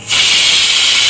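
A pressure cooker whistle releases steam in a sudden loud, close hiss that stays steady and continuous once it starts, with no voices over it.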